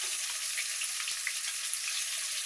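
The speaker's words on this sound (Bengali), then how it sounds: "আমি পাঙ্গাস মাছ তেলে ভাজি করতেছি।" Pangas fish frying in a pan of oil, a dense, steady, hissing sizzle with faint crackles, heard up close and without talk.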